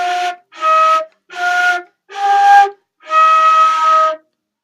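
A solo flute plays a short phrase of the carol Jolly Old Saint Nicholas, five distinct notes stepping up and back, the last held longest, clean and near.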